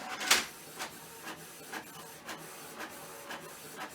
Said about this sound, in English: Now it'll scan.